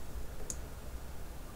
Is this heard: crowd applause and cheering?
no